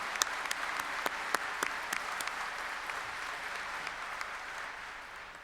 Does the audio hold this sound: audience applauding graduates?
yes